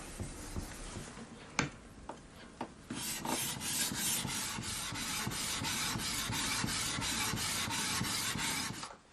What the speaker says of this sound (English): it's time for the final stage of the foundation polishing